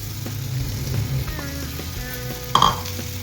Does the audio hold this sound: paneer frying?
yes